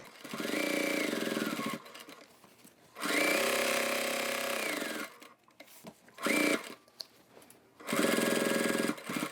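A sewing machine stitches a slip pocket into a bag lining, running in several loud close bursts of rapid even stitching separated by short pauses and small handling noises.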